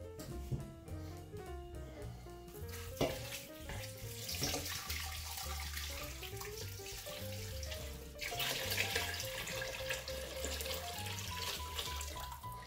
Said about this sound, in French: il ne nous reste plus qu'à rajouter de l'eau dans notre faitout